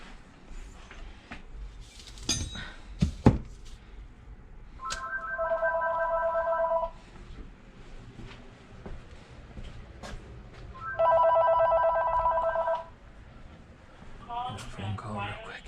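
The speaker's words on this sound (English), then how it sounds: "Phone call real quick." A telephone rings in a workshop where a Phantom 3 engine is being taken apart: two clear electronic ring bursts, each about two seconds long and several seconds apart, set among clattering handling noises and some talk.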